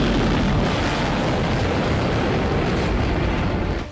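A heavy, sustained roaring rumble from an Iranian Khaibar ballistic missile strike fills the clip, loud and continuous, with no break and no voices.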